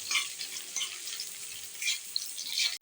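Onions and two or three bay leaves sizzle steadily in hot oil as they are stirred in a pan, a close, crackly frying hiss with brief scraping touches.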